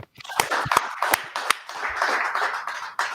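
A small audience claps, with a few sharp, separate handclaps at first, then a looser patter of clapping that fades, heard close and fairly quiet.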